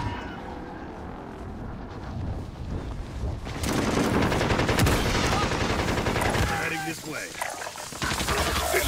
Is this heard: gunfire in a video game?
yes